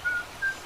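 Two short, clear whistled tones imitating a yodeling bird call on old-time radio, the second shorter than the first, thin and fairly soft over a hissy background.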